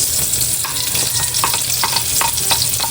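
Garlic, ginger and onion sautéing in a pan, a loud, dense sizzle running throughout with spatula scrapes and stirring taps at a quick, uneven pace, close up and without speech.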